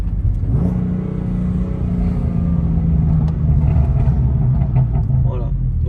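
A BMW M3 Competition with a modified aftermarket exhaust rumbles and revs steadily close by, a deep continuous engine drone with slight rises in pitch throughout.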